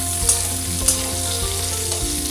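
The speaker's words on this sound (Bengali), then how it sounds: "আলু কপি ভাজা হয়ে গেছে" Potatoes and cauliflower fry in a pan with a steady, close sizzle, broken by a couple of sharp scraping clinks from stirring.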